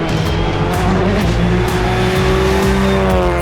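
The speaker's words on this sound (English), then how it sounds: "For others, like Nick and Kelly Matthew, it's a quick shakedown to prove the car is back in fighting form." A rally car at Rallye Charlevoix runs an in-town stage, the engine droning loud and close with rising and falling revs, tires squealing through the corners, and gear changes cutting in throughout.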